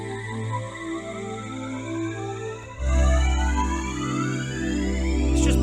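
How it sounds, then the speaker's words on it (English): Phaser effect slowly sweeps across a Nu Disco House track, the sustained synth tones swirling in rising and falling bands, with a fuller beat entering partway through, loud and without talk. "A slow phaser on that."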